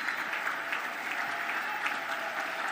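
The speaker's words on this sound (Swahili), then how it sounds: "makofi mengi kwa Mheshimiwa Rais wa Jamhuri ya Muungano wa Tanzania." A crowd at a public event applauds the President of Tanzania with steady, even clapping that holds throughout, moderately distant and free of any talk.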